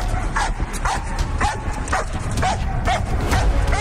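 A Malinois barks hysterically in rapid, near, loud yips and barks, one after another at a frantic steady rhythm, with no pause over a noisy background.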